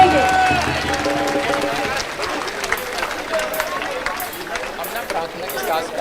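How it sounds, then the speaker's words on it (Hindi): Applause from an audience at a birthday celebration, with scattered clapping and crowd noise under loud speech, fading from fuller clapping at the start to a thinner patter. "तालियां नहीं रुकनी चाहिए, जोरदार तालियां करेंगे"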